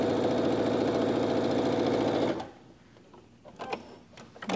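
A sewing machine stitches two quilt fabric rectangles together with a fast, even mechanical whir for a couple of seconds, then stops, leaving quiet handling noises and faint clicks.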